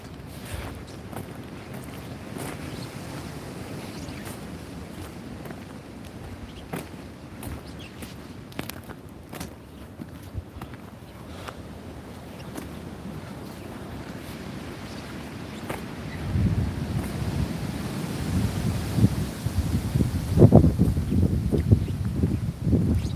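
Steady wind buffets and rushes past outdoors in New Addington in late December, with gusts growing stronger and rumbling toward the end.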